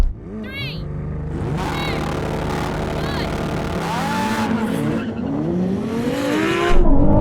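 Supercars drag racing side by side, a McLaren 750S, Ferrari 296GTB, Porsche 911 Turbo and Lamborghini Huracán Performante, engines revving hard and climbing through gears, loud and close, with excited voices shouting over the roar.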